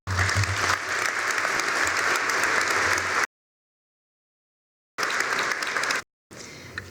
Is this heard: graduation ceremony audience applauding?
yes